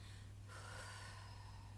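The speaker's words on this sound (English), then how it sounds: "maybe just first take a breath out" A person slowly exhales one long, soft breath out, close to the mic, a steady airy rush that starts partway in and fades gently, with no speech.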